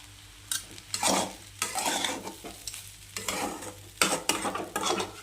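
Egg fried rice is stirred in a frying pan over low heat with a quiet sizzle beneath. A utensil scrapes and tosses in repeated irregular bursts, close and moderately loud, and no one speaks.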